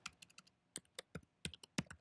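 Quiet, close keystrokes on a computer keyboard come in short irregular bursts of crisp clicks with brief pauses between them and no voices.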